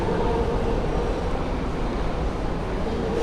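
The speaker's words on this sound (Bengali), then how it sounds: "রেলওয়ে স্টেশনের ভিতরে ঢুকলাম" Steady low rumble inside a railway station in Iași, Romania, a continuous hum with faint murmuring and no clear voices.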